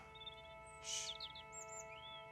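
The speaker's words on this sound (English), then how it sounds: "That's a robin." A robin sings briefly at a distance, faint chirps and a rising whistle over a quiet background with a steady electrical hum.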